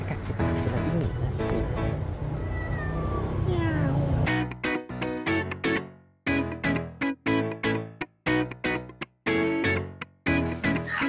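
A cat meows on a street in Penang, thin wavering calls mixed with voices and background noise in the first few seconds, followed by loud rhythmic music beats.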